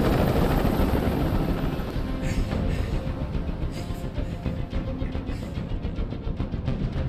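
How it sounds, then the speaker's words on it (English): A helicopter hovers in Detroit: Become Human, its loud, steady rotor roar filling the scene with a constant low rumble and thudding blade beat that never lets up. "Tell that helicopter to get out of here."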